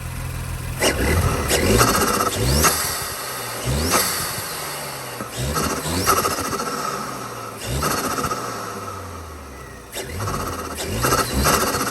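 An Audi B9 S4 with a CTS Turbo intake runs and is revved repeatedly, each loud blip rising and falling in a steady series of throttle pulls with intake whoosh.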